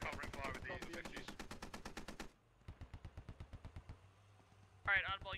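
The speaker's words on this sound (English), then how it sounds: "Shots coming in." Gunfire in the military shooter game Squad: rapid bursts of automatic fire crackle steadily, then quieter, more distant single shots repeat in a regular rhythm before a loud burst returns near the end.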